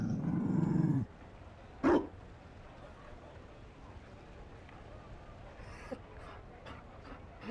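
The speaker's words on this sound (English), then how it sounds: "You found a dog." A Mabari war dog in Dragon Age Inquisition gives a loud gruff growl-bark, then a single short bark, followed by faint panting and small sounds.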